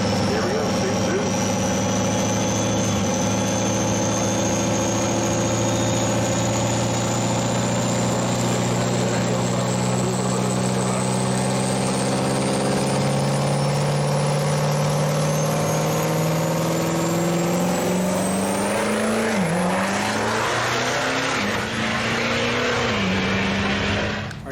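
Engine of a 2012 Ford F-250 single-cab pickup with a 6.7 Power Stroke diesel, 6R transmission and Suncoast converter, running loud and steady, its pitch climbing gradually and then wavering as it revs, with voices talking over it.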